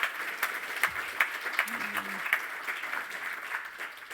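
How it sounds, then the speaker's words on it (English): An audience at a tech conference claps steadily for several seconds, a dense patter of many hands at moderate volume, with a brief low murmur partway through. "A round of applause, please, for Adrian."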